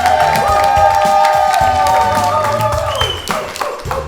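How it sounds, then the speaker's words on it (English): A TV talk show studio audience claps and cheers loudly, with a voice speaking over the applause as it starts to fade. "they stopped clapping quick today"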